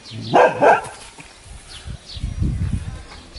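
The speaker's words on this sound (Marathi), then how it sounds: "कुत्री सुद्धा भोकायला लागले आपल्याला." Two sharp dog barks ring out close by, followed by lower rumbling noise and a few faint distant yips.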